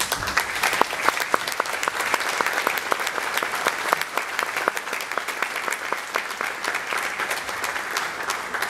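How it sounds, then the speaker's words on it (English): Concert audience applauding steadily after a composer is invited to the stage, dense even clapping sustained throughout without talk. "I'm glad you clapped"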